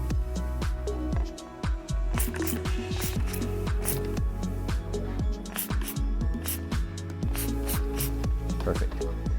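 A barber's spray bottle mists water onto hair before a half fade comb over cut, giving quick repeated spritzes mixed with rustling and brushing, heard close while someone talks.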